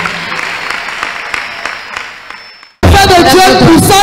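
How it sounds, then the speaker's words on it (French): Congregation applause during a church service: moderate clapping that fades over under three seconds, then gives way abruptly to loud speech. "Let us clap for the Lord."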